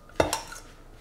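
Rolled asparagus crêpes in a baking dish being topped with béchamel: two quick, close clinks of a utensil against the dish, then a short fading rattle.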